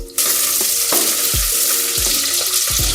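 Sliced green chilies hit hot oil in a pressure cooker and sizzle loudly, a sudden burst of frying that stays steady, with several low knocks of stirring against the pot.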